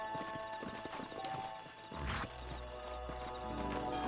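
Steady clip-clop of horse hooves on the move in Red Dead Redemption, with a horse snorting or whinnying partway through amid a busy game soundscape.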